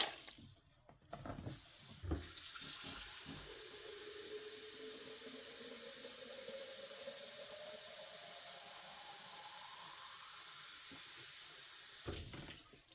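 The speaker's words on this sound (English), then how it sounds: "Adding just a little bit extra water" Tap water runs steadily into a cooking pot while broth and water are added for Cincinnati goetta, a continuous splashing stream with a slowly rising pitch as the pot fills, close and alone for about ten seconds.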